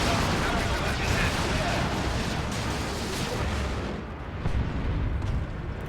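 Heavy weapon fire from a Chimera transport in the strategy game Dawn of War 2, a dense roar of repeated blasts and crackling explosions that stays loud throughout and dips briefly near the end, with no talk.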